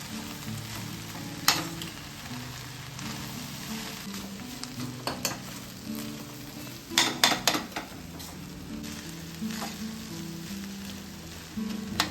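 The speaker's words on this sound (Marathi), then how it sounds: "छान पूर्ण भात मिक्स करून घेतला" Matki rice is mixed in a hot pan, with a constant low sizzle broken by spoon scrapes and clinks against the pan, loudest in a quick cluster midway, and no speech.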